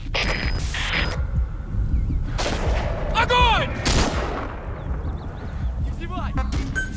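Gunfire in the video game Metal Gear Solid V: The Phantom Pain, several sharp loud shots and bursts mixed with mechanical clanks and game effects, with a voice calling out between them.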